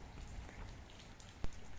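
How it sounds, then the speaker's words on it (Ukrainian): Light rain patters softly on a rose garden under a sweet cherry tree, a faint steady hiss with scattered drops and one sharper close tap. "А зараз падає дощик"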